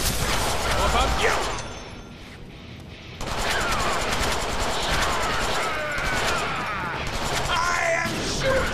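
Gunfire in the Deadpool game rattles in rapid bursts over busy mechanical clatter, with a brief lull midway before the loud shooting resumes, and voices in the game mixed underneath.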